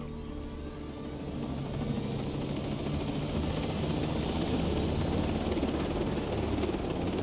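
A helicopter in the video game Ghost Recon Breakpoint gives a steady, broad rotor and engine roar that swells slightly and then holds, with no voices.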